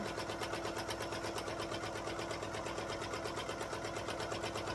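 A sewing machine runs continuously at a fast, even rhythm, stitching a pocket onto a DIY beginner purse, its steady mechanical whir close and unbroken throughout.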